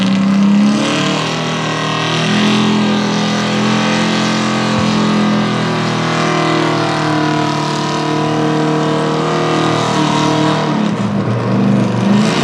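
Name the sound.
pulling truck engine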